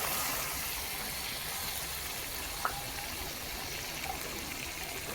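A small amount of water is poured into a pan while Bengali mustard-based parshe fish is cooking, producing a steady, soft trickling stream close by with one faint tap partway through.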